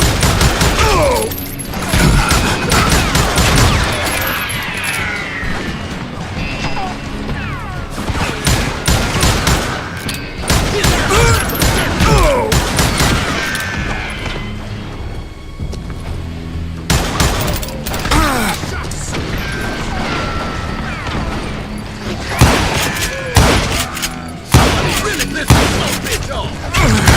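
Rapid, loud gunfire in the video game Call of Juarez: Gunslinger, dense volleys of shots and booms running almost nonstop through a western shootout, with voices and game sounds mixed in.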